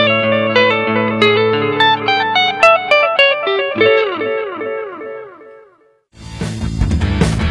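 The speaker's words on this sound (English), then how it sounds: "Reverb module provides 6 reverberation effects." Guitar through the reverb module of a Mooer GEM Box multi-effects processor: a descending run of notes with long washy tails, a brief near-silent gap, then a dense strummed burst of reverberant chords.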